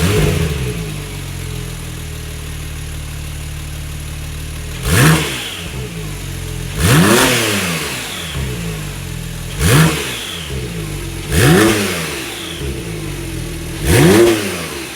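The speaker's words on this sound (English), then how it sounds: "Now that it's all installed, we'll rev it up here." A Porsche 991.2 Turbo S with a titanium Akrapovic exhaust, high-flow cats and a tune revs five times in sharp, loud bursts, each climbing and falling back to a steady low idle between blips.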